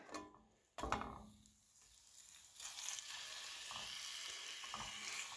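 Bacon fries in a pan in a cabin kitchen, a sharp clatter near the start giving way to a steady, bright sizzle that builds and holds, with small pops and crackles over the hiss.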